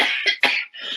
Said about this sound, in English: That is a cigarette cough.